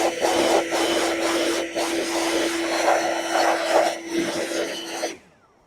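A blower roars steadily as it blows bees out of honey super frames. The loud, close whine holds a steady tone with slight wavering as the airflow shifts, then cuts off abruptly near the end.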